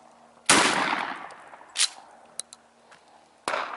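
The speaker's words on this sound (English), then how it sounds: "this is going to be your double-aught buck. Alright, firing." A shotgun fires a single double-aught buckshot round for home-defense practice: one loud, close blast with a trailing echo, followed by a few sharp mechanical clicks and clacks.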